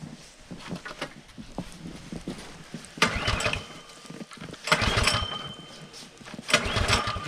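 Small engine being pull-started after primer pumps, outdoors in deep snow: several bursts of pulling and sputtering come in separate waves, fairly close, over a steady background rumble.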